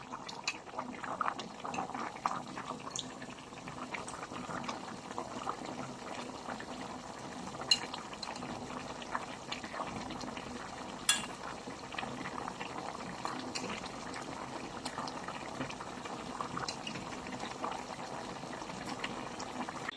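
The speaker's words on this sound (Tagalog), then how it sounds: "hinahayaan lang natin siyang kumulo ulit para mas lumambot po yung ating ulam" A pot of jackfruit and chicken stew boils steadily on the stove, a soft continuous bubbling and simmering texture with occasional small pops and clinks, faint and close, with no talking.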